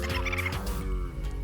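A loud, close turkey gobble from a Minecraft Cobblemon mod: a rapid warbling burst of throaty, bubbling calls lasting about a second and a half.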